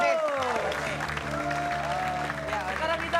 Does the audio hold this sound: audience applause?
yes